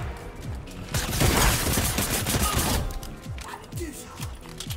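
Rapid bursts of gunfire in the video game Fortnite crackle through the game audio in dense volleys with a heavier stretch in the middle, while people talk over the action.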